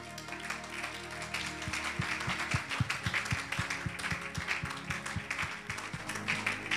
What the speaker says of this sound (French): Est-ce qu'on peut donner une offrande d'acclamation au Seigneur?